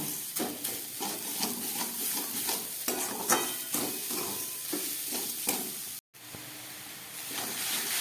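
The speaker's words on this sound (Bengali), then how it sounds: "চিনি আর নারকেলটা আমার ভাজা হয়ে গেছে।" Sugar and grated coconut fry together in a pan, with repeated scraping stirs over a light sizzle and a short silent gap near the end; no voice is present.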